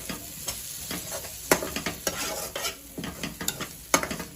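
Masala with fresh coriander is stirred in a pan for a quick masala pav snack, with soft sizzling under a series of sharp spoon scrapes and taps against the metal.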